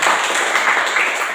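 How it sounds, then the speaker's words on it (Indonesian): Applause from a classroom of students, a steady broadband patter of many hands clapping at moderate loudness, sustained evenly for a short stretch with no voices on top. "tepuk tangan untuk saya"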